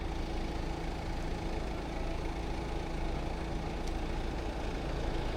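A car engine idles in a roadside parking spot, a steady low rumble running unbroken and fairly close throughout, with no talk over it.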